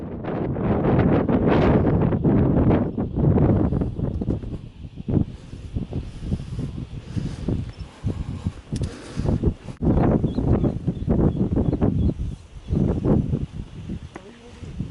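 Strong wind at Pha Taloen cliff on Phu Luang, a high mountain spot, roars and buffets loudly in gusts, booming against the microphone and coming and going, while people talk intermittently.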